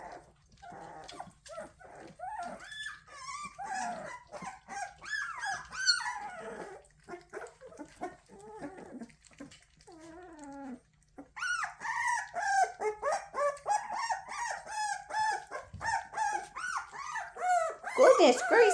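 A dog named Birdie whines and whimpers in long rising and falling cries, close and insistent, with occasional small barks and growls, while a person talks to her throughout.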